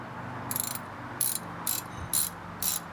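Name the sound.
socket wrench ratcheting during a brake job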